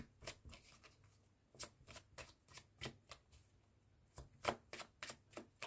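Tarot cards are shuffled by hand in quick, crisp bursts of riffling and slapping, close and fairly quiet, with short pauses between the flurries.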